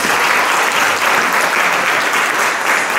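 Audience applause at a Korean community lecture event, a steady dense clapping from a crowd that fills the whole stretch at close range, loud and even with no pauses and no talking over it.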